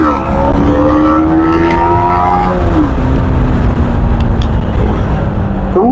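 A vehicle drives along a city road in Shimoga, its engine loud and close throughout, the pitch holding steady, then dropping as it shifts or eases off partway through, with traffic and wind noise around it.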